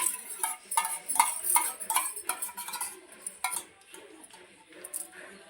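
A spoon stirs mayonnaise and ketchup in a bowl, giving a run of close, light clinks and scrapes that come irregularly at first and then thin out into softer, sparser taps.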